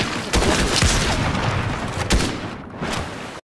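Gunfire in Fortnite battle royale, a rumbling barrage of booming shots with a few sharp louder cracks standing out, close and heavy, cutting off abruptly at the end; no speech.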